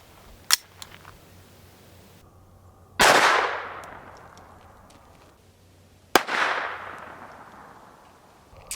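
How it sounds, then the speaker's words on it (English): Two sharp reports from a Browning Buckmark pistol firing .22 Long Rifle rounds, each a crisp crack with a short decaying tail, about three seconds apart, with a fainter pop just before them. "we're going to start out with the Browning Buckmark using 22 long rifle"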